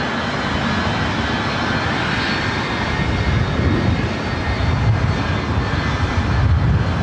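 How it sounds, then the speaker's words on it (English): An Airbus A380 arrives at LAX, its engines a loud, steady, broad roar from close by that slowly swells and rumbles throughout without any talking. "Super Airbus 380 arriving"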